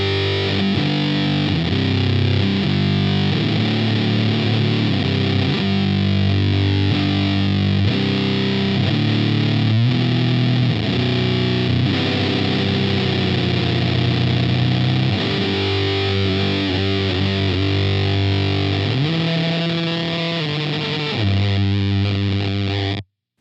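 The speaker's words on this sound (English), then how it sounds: "this is just one of a myriad of sounds that exists within the Fuzz Factory" Electric guitar on the neck pickup driven through a Z.Vex Fuzz Factory pedal, a thick, saturated fuzz tone with sustained notes and sliding, wavering pitches playing continuously and loud for over twenty seconds with no talking.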